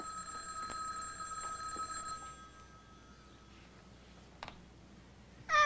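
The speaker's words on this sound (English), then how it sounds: "I've got to answer that phone" An old-style telephone bell rings in rapid metallic bursts, fairly close and clear, then fades out before a brief clatter at the end.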